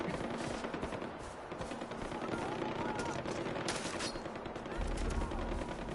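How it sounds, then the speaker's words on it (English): Rapid bursts of automatic gunfire crackle continuously at a moderate distance in the video game Far Cry 4, dense and steady, with a low thump near the end. "I'm sure all those gunshots don't involve me in any way"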